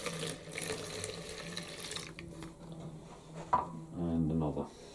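Hot tap water runs steadily into a container holding detergent, a close, continuous splashing rush that ends and gives way to quieter water sounds and a brief clatter.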